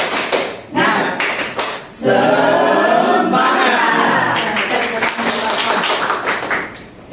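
A class of students beats out a rhythmic spirit clap, bursts of sharp unison claps mixed with voices shouting and chanting together, loud and close in a classroom.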